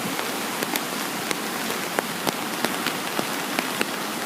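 Raging floodwaters in a creek during April flooding in southwest Douglas County, Missouri, a steady broadband rush of water with scattered sharp splashes and drip-like clicks, close and continuous with no one speaking.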